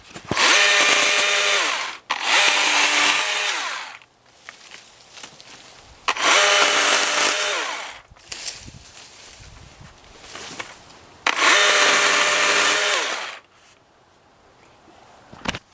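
A Husqvarna 120i battery chainsaw whines through wood in three long bursts of a few seconds each, with quieter pauses of crackling and handling between cuts.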